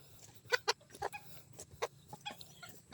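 Bantam hen clucking close by in a backyard, a series of short, sharp clucks and calls in irregular bursts over quiet background, with no talking.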